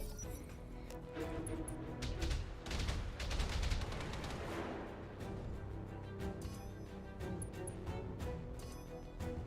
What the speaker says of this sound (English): Commencing Alpha Strike.